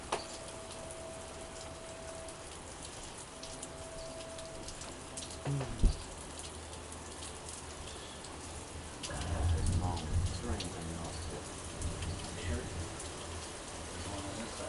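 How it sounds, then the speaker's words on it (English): Heavy monsoon rain falls steadily in a thunderstorm, a constant hiss on surfaces, with a sharp knock partway through and a louder surge of pouring water later on. "Here's it raining like a big monsoon."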